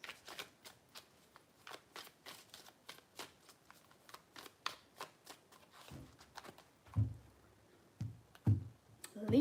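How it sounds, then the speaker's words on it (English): A tarot deck is shuffled close up in a rapid series of light, crisp card clicks, followed by a few heavier thumps and taps as the cards are squared and set down, with no speech. "Three shuffles."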